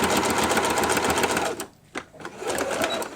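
A sewing machine back stitches along a placemat, its fast, steady mechanical whir running close and loud, pausing briefly partway through before resuming.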